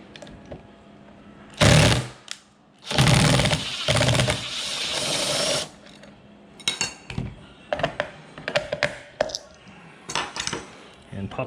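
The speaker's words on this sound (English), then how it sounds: "Then you're going to take your wrench and remove this magnet." A wrench works on a magnet during a lithium battery kit install on a TM22G, with loud sustained grinding bursts followed by a series of sharp metallic clinks and taps, close up.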